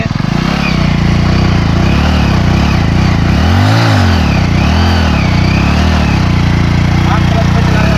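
An old Hero Deluxe motorcycle engine runs in gear during a power test, a loud, close, continuous putter with wavering pitch as the engine labours and revs slightly.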